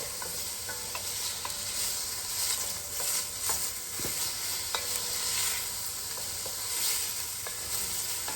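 Onions and garlic sizzle in a pan for a ground beef and Italian sausage pasta sauce, with occasional utensil scrapes and taps from stirring over a steady soft frying hiss, no talking.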